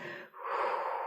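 A single deep, conscious inhale, a short sharp breath drawn in close to the microphone, with a brief pause before the breath continues; no speech.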